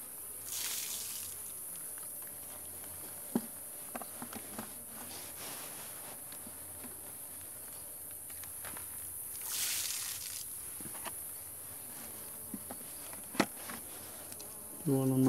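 Honey bees in a weak colony being fed syrup hum in a soft, continuous buzz at the hive, with occasional small clicks and taps of handling nearby and no talking.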